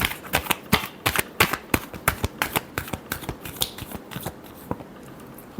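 Tarot cards are shuffled by hand in a quick run of sharp, crisp riffs and snaps, close and dry, each burst clearly separated, with no talking over them.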